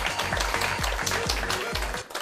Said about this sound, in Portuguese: Um aplauso para Sueli, meninas.